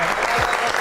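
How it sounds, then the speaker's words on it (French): Short burst of audience applause at a French television show, dense and steady throughout with a faint voice briefly over it. "on applaudit pour elle, c'est mignon."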